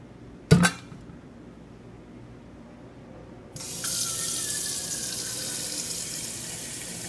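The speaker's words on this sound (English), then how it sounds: "Grab the coffee carafe and fill it with water." Water from a kitchen tap streams into a coffee carafe, starting after a sharp clink of glass and then running steadily and close.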